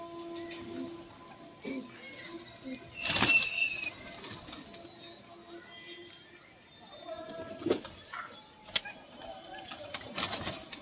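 Gola pigeons coo softly in the background in Kanpur, with a few sharp bursts of wing flapping and scuffling nearby, plus faint indistinct voices.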